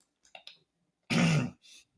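A person recovering from illness gives a single loud, harsh throat-clearing cough close to the microphone, with a few small throat noises before it and a fainter clearing sound after.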